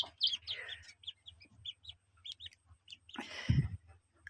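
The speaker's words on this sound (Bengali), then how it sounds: "মুরগির বাচ্চাগুলো দেখেন" Incubator-hatched chicken chicks chirp in a run of short, high peeps, fairly faint and close, ending with a brief louder rustle or bump.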